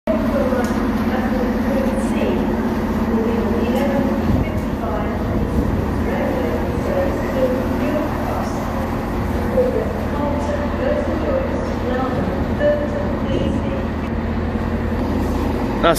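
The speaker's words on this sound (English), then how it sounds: "This one's gonna be my train." A CrossCountry Class 170 diesel multiple unit rumbles steadily throughout, with a continuous low engine drone and faint rail noise, close and loud.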